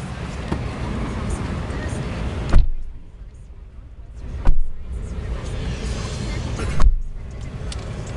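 A 2005 Nissan Pathfinder XE 4x4 with a 4.0 V6 on a test drive, giving a steady cabin rumble of engine and road noise, broken by three short loud knocks or thumps.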